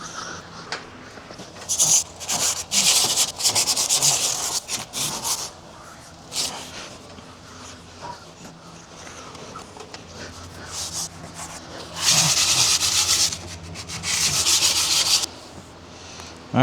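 Panel prep wax and grease remover being wiped over a 1965 El Camino body panel with body filler spots, giving bursts of close, loud rubbing strokes separated by quieter pauses.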